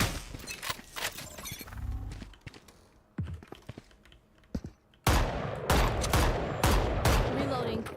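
Automated turret firing in a video game, sounding as sharp bursts of rapid clattering shots, sparse and uneven at first and then dense and loud through the second half.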